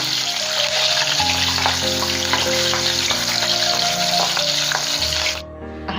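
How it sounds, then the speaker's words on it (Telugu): Green chilies sizzle and fry steadily in hot oil in a home kitchen, a loud, continuous crackling hiss that carries on evenly before dropping away abruptly near the end. "ఇదే ఆయిల్లోకి రెండు పచ్చిమిర్చి కూడా వేసుకుంటే ఎలా ఉంటుంది"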